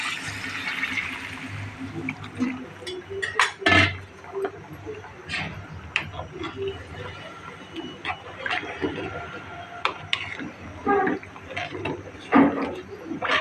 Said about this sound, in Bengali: কিছুটা গরম পানি ঢেলে দিলাম